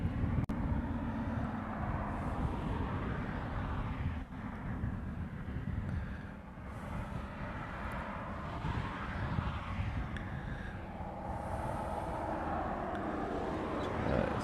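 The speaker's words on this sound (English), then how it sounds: "That 717 that's coming out in the background there is heading off to Kailua Kona." A Boeing 717 airliner taxiing out at Honolulu airport gives a steady low engine rumble and whine in the background, with wind buffeting the microphone and no talk.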